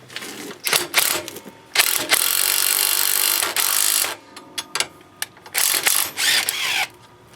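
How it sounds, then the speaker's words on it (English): Loud bursts of an impact wrench pulling a wheel stud through on a 2003 Polaris Ranger 6x6 during a beadlock rim install, several sustained rattling runs separated by short pauses and clicks, close up. "I'm going to take my impact and I'm going to pull the stud through."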